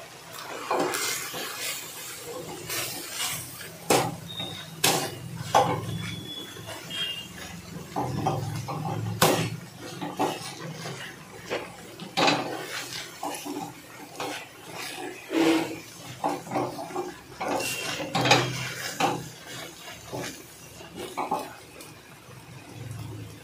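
Boiled mung dal being mashed with a dal masher in a pot, a steady run of wet squelching presses and knocks on the pan bottom, close and fairly loud, with no talking.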